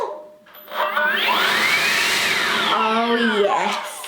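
A battery-powered leaf blower runs up to speed with a rising electric whine, holds a steady, loud, airy roar close by, then winds back down near the end.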